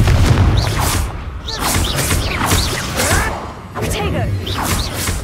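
Confringo fire spells cast in Hogwarts Legacy, the game, burst out as repeated whooshes with heavy booming impacts, loud and near, over a dense layer of game effects and voice-like sounds.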